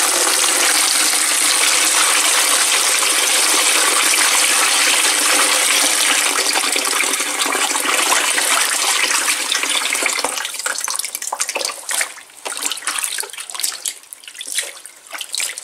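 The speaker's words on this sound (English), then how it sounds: "I'm going to fill the bowl up just with some vaguely warm water," Warm tap water gushes steadily into a bowl for rinsing dyed wool and alpaca locks, a loud continuous rushing stream that later turns splashy and uneven as the flow breaks up, with no talking.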